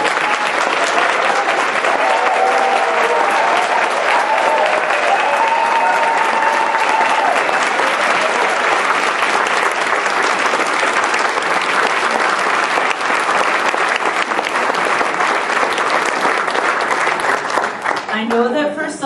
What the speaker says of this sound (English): if I may ask all of our outstanding graduating students to stand for one